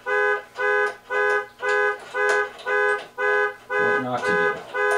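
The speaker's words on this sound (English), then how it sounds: "Set off the alarm in the car." A car alarm beeps in a steady repeating pattern of loud, evenly spaced tones, about nine bursts, with some clattering handling noise mixed in near the end.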